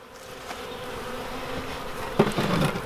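Honey bees buzz steadily around a weak beehive in winter, a continuous droning hum that grows slightly louder toward the end, with a few closer passes near the microphone.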